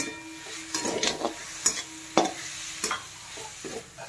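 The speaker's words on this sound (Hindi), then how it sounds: "लगभग एक से दो मिनट तक इसे हम इस तरह से सोटे करेंगे" A potato and fenugreek filling with coriander and mint is sautéed in a pan with a soft sizzle, and a spatula scrapes and taps against the pan in an irregular rhythm.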